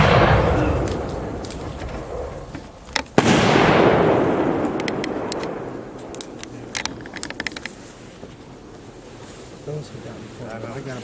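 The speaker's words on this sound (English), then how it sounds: "we're going to shoot the 6-inch Freedom 100 Dragons Dance," A 6-inch Freedom 100 Dragons Dance long-duration 1.3 firework shell bursts with one loud boom, then a long crackling, hissing tail and scattered pops, heard outdoors against a steady wind-like rush.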